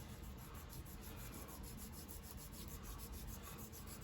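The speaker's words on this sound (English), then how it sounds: "So we're going to use a little filing stick here." A small filing stick rubs back and forth over a rough plastic model car part, smoothing away bumps left by print supports; a faint, steady, close-up scratching with no talk.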